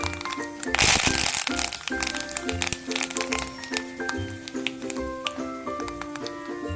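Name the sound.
dried red chillies and curry leaves crackling in hot oil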